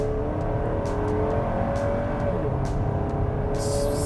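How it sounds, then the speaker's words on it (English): A 2024 GMC Acadia pulls away from a standstill in sport mode with a steady, moderately loud engine drone and whir that holds through the run, heard from inside the cabin with no talking. "I will press my brake, press the gas, build a bit of boost, and go."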